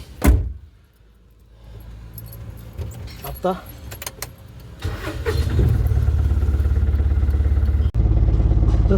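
Keys jingle briefly, then a car engine cranks and starts, settling into a steady, loud idle rumble that continues to the end.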